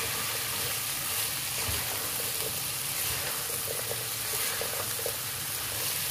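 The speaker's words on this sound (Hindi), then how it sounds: "तो थोड़ा सा तेज़ आंच पे ही जो है पका लें, उलट पुलट कर लें," Okra fries on high heat, stirred and tossed in the pan with crushed chillies, giving a continuous dense hiss with soft scraping throughout and no voices.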